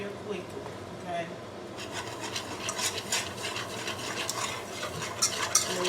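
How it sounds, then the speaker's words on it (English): Flour roux stirred quickly in a pan for cheeseburger hamburger helper, a spoon rubbing and scraping in brisk rhythmic strokes over a soft sizzle, close and fairly quiet. "But you have to stir it real quickly, okay?"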